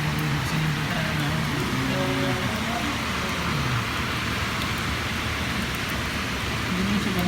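Steady rain falling in Jeddah, a continuous broadband hiss that stays even and fairly loud throughout, with someone talking over it and faint passing traffic underneath.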